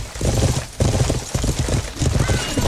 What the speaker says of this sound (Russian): Вон сворачивает лошадь, надо атаковать.